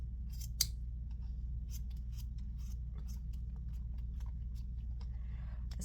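Scissors snip through crochet yarn in a quiet room, a few crisp close cuts with small pauses between them over a low steady hum.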